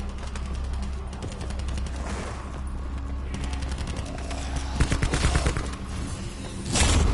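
Rapid bursts of automatic gunfire from Black Ops 4 Zombies, loud and close, firing in repeated volleys with brief gaps and a heavier blast near the end.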